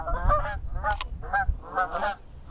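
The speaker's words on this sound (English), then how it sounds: "So geese off home." A flock of geese honking in flight overhead, repeated nasal honks in overlapping bursts of several calls, fairly close and loud against a quiet outdoor background.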